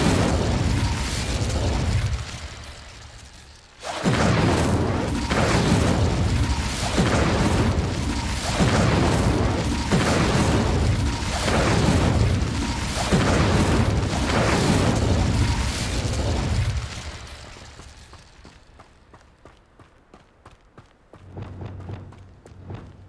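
Fiery spell blasts from Confringo and Incendio erupt in Hogwarts Legacy, a rapid run of loud booming explosions and bursts that pound continuously for most of the stretch, then fade into a quieter rumble before a final thump.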